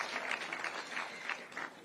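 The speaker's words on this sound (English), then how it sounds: "Let's clap for the learners." A group claps briefly for the learners during a visit to Nairobi National Park, a short burst of moderately loud, uneven applause.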